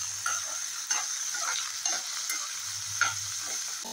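Red chillies fry in a pan for a Rajasthani garlic chutney, a steady close sizzle with a few light stirring taps roughly once a second, alone and even in level.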